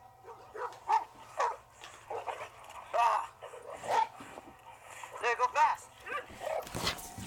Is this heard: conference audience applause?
no